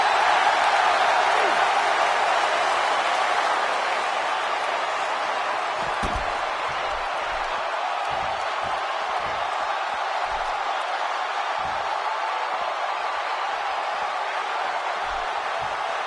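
A large wrestling arena crowd roars steadily and loudly throughout a Hell in a Cell match, a dense wash of voices with a few dull thumps underneath.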